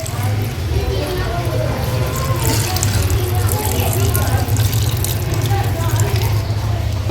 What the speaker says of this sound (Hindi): यहाँ पर हम 1 प्याली दूध की इसमें डालेंगे